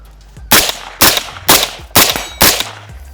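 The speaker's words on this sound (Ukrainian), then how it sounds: "Дістаємо зброю з піску, обтрушуємо її. Трошки піску прилипло, але це не повинно ні на що впливати. І пробуємо стріляємо." A UAR-15 rifle, just pulled from sand and shaken off, fires five sharp, loud shots at an even, roughly half-second rhythm, each crack followed by a short decay.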